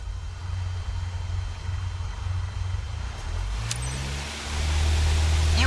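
Airliner jet engines in Flight Simulator 2024 spool up to full takeoff power, a steady low rumble that builds and rises in pitch into a louder, broader roar near the end, with no voices.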